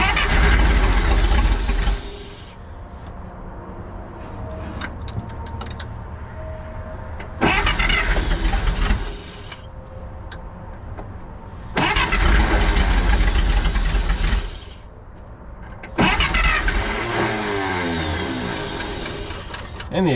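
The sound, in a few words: 1948 Pontiac straight eight engine cranking and starting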